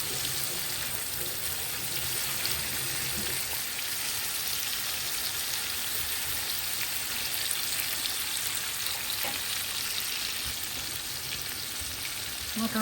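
Hilsa fish heads frying in a pan give off a steady, dense, close sizzle that holds at an even level throughout, with no voices.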